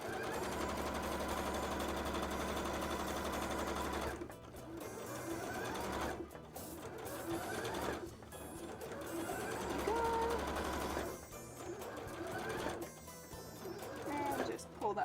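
A sewing machine stitches tail frills in fast, loud bursts, stopping and starting several times with short pauses between runs.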